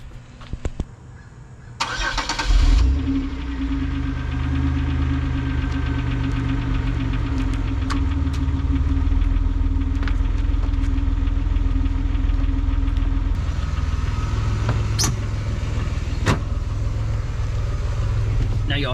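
A car with an aftermarket muffler starts up and settles into a steady, throaty idle that runs close and loud for most of the stretch, with a brief change in tone near the end.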